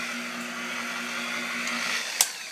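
A Simoniz 7-inch rotary polisher runs at a steady speed, giving a continuous whirring motor drone with a soft tonal hum, then a single sharp click near the end.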